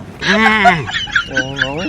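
A voice imitates a duck, giving a quick run of nasal quacks in a North Karnataka comedy sketch, fairly loud and close, with no other sound around it.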